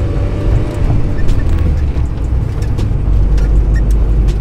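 Interior of a Honda Civic swapped to a manual transmission while driving, with a steady loud low engine and road drone, slightly out-of-alignment car, with faint scattered clicks and no clear talk.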